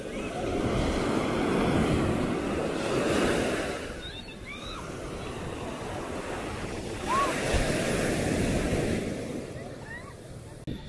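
Ocean waves rolling onto a beach in Ilocos, a loud continuous surf roar that swells and recedes, with wind buffeting the microphone and faint distant voices.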